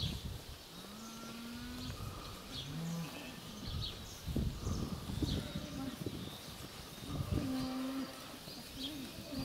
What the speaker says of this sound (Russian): Коров снимаем.